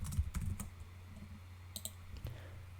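A handful of quiet keystrokes on a computer keyboard, with a quick burst of clicks at the start and a few scattered taps afterward, heard faintly and close by without any talking.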